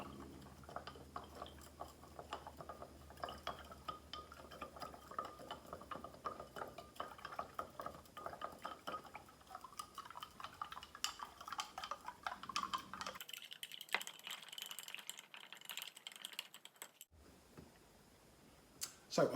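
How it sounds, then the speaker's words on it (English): A glass stirring rod stirs a rock salt and sand mixture in a beaker of water, giving faint, irregular close clinks and scrapes with a soft swish, then dropping to near silence near the end. "using a stirring rod, I'm going to stir the mixture"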